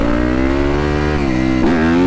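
A dirt bike engine revving hard and steadily during a shift lock, loud and close, its pitch holding before a brief dip and surge near the end, with no voices over it.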